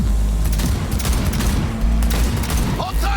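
Rapid gunfire in a Cyberpunk 2077 drive-by shootout, dense bursts of shots layered over a steady low engine rumble, loud and continuous throughout.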